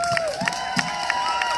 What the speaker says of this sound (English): I would like to give her an applause